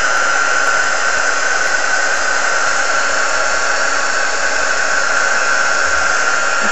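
Heat tool blowing steadily while melting embossing powder for an alcohol ink leaf and flower craft, a loud, continuous hairdryer-like whoosh with no pauses or talk.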